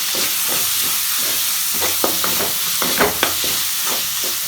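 Tomatoes with chili powder sizzle steadily in hot oil while a spoon scrapes and stirs the pan in repeated strokes, close and loud.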